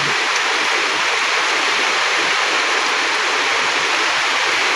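Floodwater flows in a steady, continuous rush, a dense broadband wash of water noise that holds even throughout with no voices.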